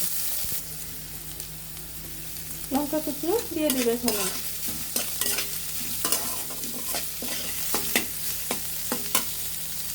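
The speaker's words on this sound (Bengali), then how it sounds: "এখন একটু হালকা ভাজা ভাজা করে নিব।" Chopped onion, garlic and ginger with cardamom and cinnamon sizzle steadily in hot oil in a wok, with a spoon scraping and stirring in sharp clacks throughout; a voice speaks briefly over the frying.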